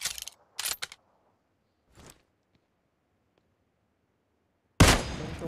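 Gunfire in the mobile shooter Battlegrounds Mobile India comes as a couple of sharp bursts at the start, a faint lone shot near two seconds, then a loud blast trailing into noise after a stretch of silence.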